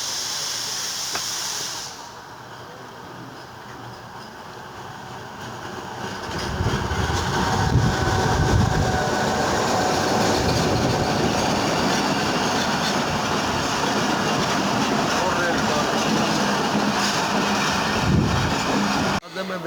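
The Hazara Express rolls through a station in Pakistan, a hissy interior hush giving way to a louder rumbling clatter of wheels and carriages that holds steady to the end, heard from on board.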